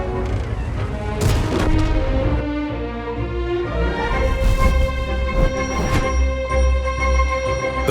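A Progetto 46 tank fires shells in a video game, several heavy booms at irregular intervals with ringing tails, set against loud game music and ambience and no talking.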